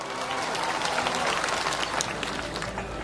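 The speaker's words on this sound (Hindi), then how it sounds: "इसलिए एक बार जोरदार तालियां आप सबके लिए।" A crowd at a Bharat Adivasi Party political rally breaks into vigorous applause, a dense, loud burst of clapping lasting a few seconds with faint crowd noise beneath.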